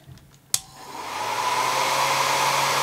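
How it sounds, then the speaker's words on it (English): A hair dryer clicks on and its steady, whooshing hum swells to a loud, constant blow close by, drying glue on a glass jar. "I'm using the hair dryer to prevent the glue from dripping."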